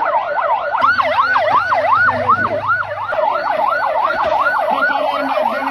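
A loud, close ambulance siren wailing in rapid repeating up-and-down sweeps during a fire rescue in Nawhata, Pabna, Bangladesh, with a low engine rumble beneath.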